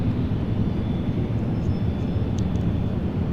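Airplanes taxiing toward the runway at Raleigh-Durham International Airport, a steady low engine rumble holding at an even level throughout, fairly close and with no voices over it.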